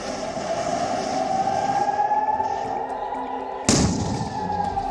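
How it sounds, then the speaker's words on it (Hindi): A long, droning air raid warning siren in Israel holds a steady tone, then a sudden sharp bang cuts through near the end. "यरूशलेम से लेकर तेल हबीब तक हवाई हमलों के प्रति अलर्ट करने वाले सायरन बज"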